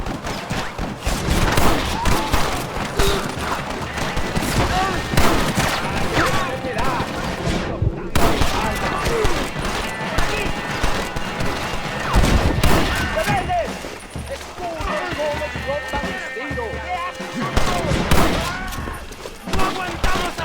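Dense gunfire during a sniper shootout in Red Dead Redemption, with rapid overlapping rifle and pistol shots and heavy thuds sounding almost without pause, loud and close, with voices shouting in between.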